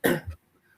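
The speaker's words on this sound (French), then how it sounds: "Désolée pour la petite toux derrière." A single short cough from a woman on a French business call, one harsh burst followed by a softer trailing catch, then quiet.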